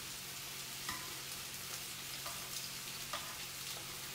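Homemade chips frying in hot oil, a steady dense sizzle with occasional soft pops and bubbling, close and continuous with no voices.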